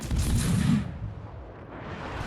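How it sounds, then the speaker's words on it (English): A torpedo hit explodes in the World of Warships naval battle game: a heavy, booming blast that bursts at once and then rumbles away into a fading tail. "See, we got a good torpedo hit on there."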